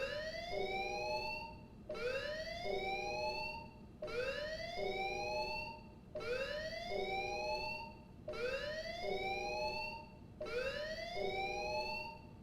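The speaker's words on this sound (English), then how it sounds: "an alarm sounds across all of New LA, warning of an approaching threat to the city." City-wide alarm siren in the video game Xenoblade Chronicles X, sounding across New LA: a loud, rising wail repeating steadily about every two seconds over a constant background rumble, with no voices.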